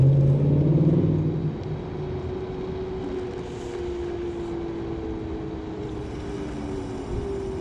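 Steady rumbling ride on an electric scooter, with a continuous low motor and road drone and a faint rising whine near the start, close and unbroken throughout.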